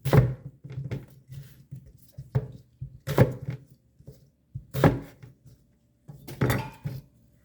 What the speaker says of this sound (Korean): 양파 껍질째 깨끗이 씻어서 썰어 넣어줍니다.